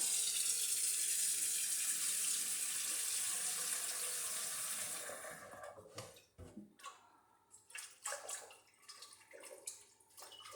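A faucet gushes loudly into a pot being rinsed of sugar after apple wine making, then cuts off, leaving scattered clanks, drips and splashes.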